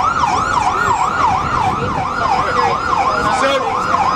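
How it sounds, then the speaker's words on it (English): Sirens wail loudly outside a press conference on Beacon Hill, a continuous rising-and-falling emergency siren cycling steadily over a background of traffic. "You have plenty of money for sirens."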